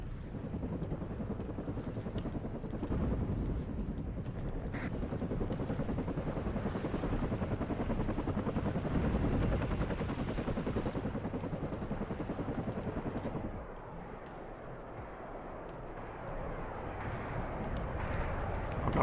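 An Apache attack helicopter in the WARNO strategy game sends a steady rotor drone through a busy battle soundscape, continuous and moderately loud, easing off briefly near the end before returning.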